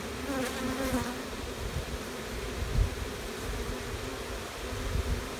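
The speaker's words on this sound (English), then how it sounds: "They're fanning quite a bit on that all that propolis." Honeybees buzzing steadily and close during an autumn hive inspection, the colony fanning over sticky propolis, a dense continuous drone with slight swells and no talk.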